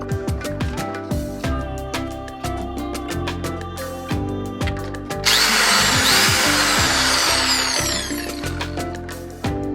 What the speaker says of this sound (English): the drill bit goes through it very easily